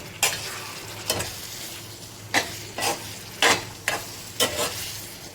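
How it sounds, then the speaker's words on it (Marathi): Chicken with a splash of hot water sizzles in a pan over a high flame while a spoon scrapes and stirs in repeated bursts, each stroke loud and close above a constant low fry. "याला मी जरा आता फुल गॅसवर पाण्याला एकजीव करून घेऊ चिकन बरोबर"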